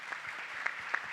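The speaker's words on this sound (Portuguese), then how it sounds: "uma salva de palmas para eles" An audience of university students at a campus event gives a brief round of applause, with a few sharper individual claps standing out from the steady patter.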